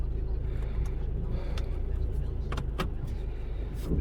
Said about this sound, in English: Nope, it's shifting. It's changing gears.